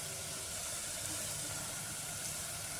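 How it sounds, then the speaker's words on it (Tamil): Ginger garlic paste sautéing in a pan for a hotel-style vegetable biryani gives a steady, even hiss of frying that continues alone without a break. "பேஸ்ட் போட்டுட்டு அதுவும் நல்லா வதக்கிக்கோங்க"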